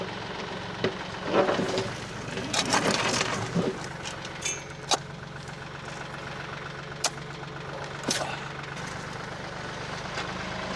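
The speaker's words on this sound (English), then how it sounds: "she's gonna run the tractor as we try to clean up all this sod and dirt on the side" A tractor engine rumbles steadily at idle, with occasional clanks and knocks rising over the low, continuous drone.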